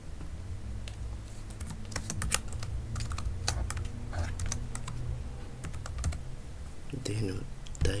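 Keys click on a keyboard as a search for a messaging app is typed, with quick irregular taps and short bursts over a low background hum.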